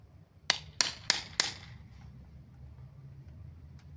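Four sharp metallic hammer strikes ring out in quick, even succession on a seized wheelchair steering part, close and bright, followed by quiet background hum.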